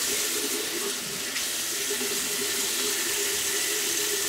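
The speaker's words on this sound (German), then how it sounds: "die Wimperntusche mit Wasser abzuwaschen" A bathroom tap runs in a constant, close, full stream while Essence Bye Bye Panda Eyes mascara is washed off with water, with no voices over it.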